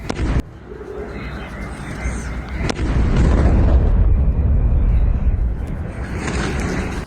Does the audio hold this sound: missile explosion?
yes